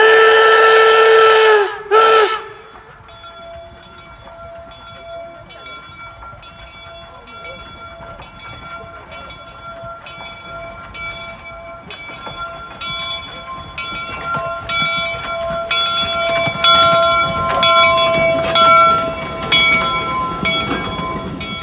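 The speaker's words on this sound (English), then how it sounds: "There's another whistle and it gets near the street right here." Steam locomotive at the Golden Spike site near Promontory Point, Utah: a loud, sustained whistle blast near the start, then a train rolling past with rhythmic clanking and rumbling that gradually builds in loudness.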